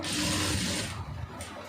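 A sewing machine stitches a blouse neckline for about a second in a fast mechanical whir, then stops, leaving a soft click and quiet handling.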